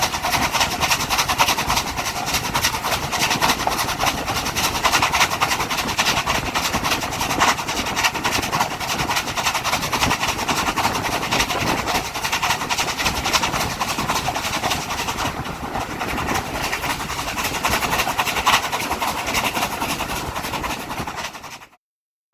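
Steam locomotive 34070 Manston running for a steady stretch, a continuous loud rush and rumble of rail travel with clattering wheels and hiss, no voices, ending abruptly.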